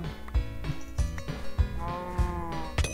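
Wynncraft video game cows moo repeatedly, a series of short low game-style moos overlapping in quick succession over a layered in-game ambient background, with no talk.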